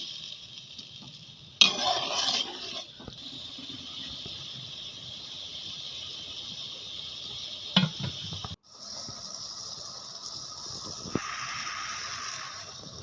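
Okra and tinda masala with yogurt sizzles in a pan while being stirred, a steady hiss broken by scraping bursts of the spoon and occasional clinks.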